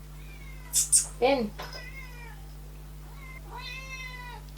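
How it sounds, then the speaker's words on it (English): A house cat meows insistently to be let indoors, several plaintive, drawn-out cries in quick succession with a steady electrical hum behind, while a person says a word nearby. "My cat is desperately wanting in."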